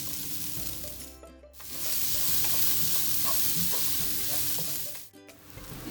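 Sliced onions sauté in a hot pan for Eid mutton roast, a steady close sizzle swelling and fading as they are stirred, with no talking.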